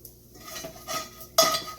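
A pot is flipped over and set down on a kitchen counter, giving a brief clatter of metal and cookware followed by a sharper clunk near the end, close and alone.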